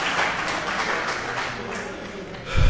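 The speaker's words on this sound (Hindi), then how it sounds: "तो आप लोग एक बार अपने लिए भरपूर तालियां जो है" Audience clapping at an Urdu poetry mushaira in Dunyapur, a steady wash of applause from a crowd heard for the full short stretch, fairly loud and even.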